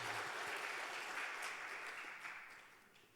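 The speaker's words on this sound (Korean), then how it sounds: "우리 하나님께 영광의 박수를 한번 올릴까요?" Church congregation clapping during a Sunday afternoon service in Daegu, a soft, distant wash of applause that fades toward the end.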